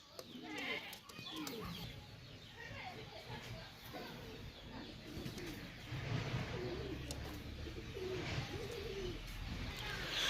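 Imported Pakistani pigeons cooing and fluttering in a breeder's loft, soft low coos and bird calls layered over constant background noise throughout.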